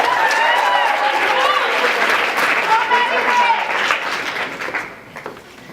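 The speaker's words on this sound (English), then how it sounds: "A hand of applause for Matt, please." An audience at the 2013 Mr. Colonial talent competition gives a loud, sustained burst of applause that fills the room, then thins out and fades toward the end, with a few cheers mixed in.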